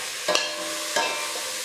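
Onions with celery fry and begin to brown in a pan for beef stew, giving a soft steady sizzle under two brief stirring scrapes, close and moderately loud with no voices.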